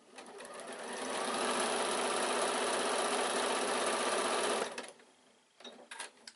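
A sewing machine with a quarter-inch foot runs steadily for about five seconds, stitching a long seam of layered quilting fabric, close and loud, then stops abruptly, followed by a few soft handling noises.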